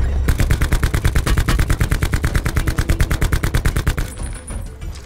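Rapid automatic gunfire in Call of Duty Blackout, a loud, steady string of shots from a rooftop shooter that runs about four seconds and then stops.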